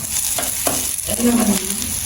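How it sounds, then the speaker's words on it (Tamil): Steady sizzling of cassava paratha frying in hot oil, a continuous crackling hiss with faint stirring scrapes, fairly close and uninterrupted. "நல்ல வடிவாக பொறிக்கிறது"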